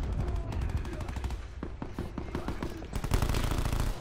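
Rapid gunfire bursts from Call of Duty Black Ops 4 multiplayer team deathmatch, dense automatic volleys with sharp single cracks, loud and continuous over the whole stretch, with a voice briefly heard among the shots.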